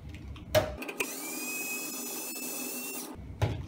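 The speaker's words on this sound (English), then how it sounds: "let's start by unscrewing the 6 screws, 2 in the top, 2 on the right and 2 on the left." Electric screwdriver whirring continuously for a few seconds as screws come out of a KnC Miner Titan casing, close by, with clicks and handling knocks before and after.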